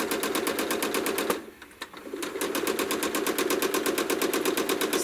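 A sewing machine runs fast and steady, stitching freehand quilted feathers as an appliqué background, its needle hammering in a rapid even rhythm that briefly stops near the middle, then resumes at full speed close by.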